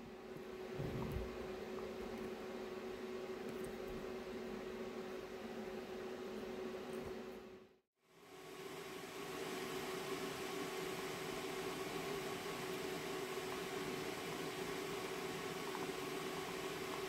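A welded gearbox on a Bolens Husky 1256 garden tractor runs with a steady, even mechanical whir and a constant tonal hum. It cuts out briefly partway through, then resumes just as smooth and quiet.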